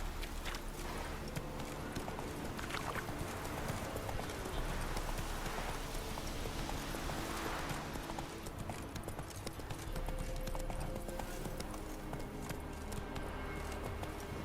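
A horse gallops in a video game, rapid rhythmic hoofbeat clip-clop running almost continuously at a fairly close distance, with some background game sounds and no speech.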